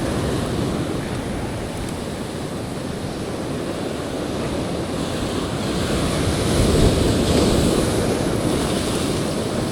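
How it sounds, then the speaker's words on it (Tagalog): Big ocean waves roll against a rocky shore at super low tide, a loud, continuous roar of surf swelling toward the end, with heavy wind buffeting the microphone. "Laki ng alon."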